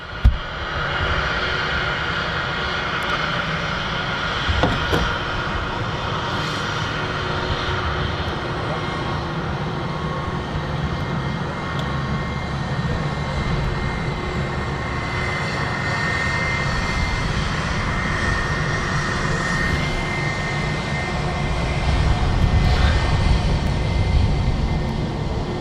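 British Airways airliner landing at Manchester Airport, arriving from Heathrow: a steady, loud engine roar that holds throughout and swells toward the end, with people talking faintly underneath.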